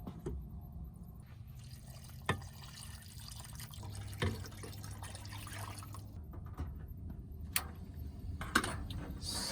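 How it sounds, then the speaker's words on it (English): Water, four cups in all, is poured into a pan holding onion, a quiet running trickle with a few small clinks of the pan, heard alone and faintly in a home kitchen. "We'll put 4 cups of water in there."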